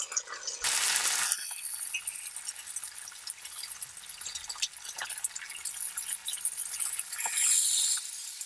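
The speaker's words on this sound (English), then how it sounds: "so I'm gonna add just a little bit of water." A small splash of water is poured into a creamy dipping sauce for bo bia spring rolls, giving a brief bright pour near the start and a few soft drips afterward.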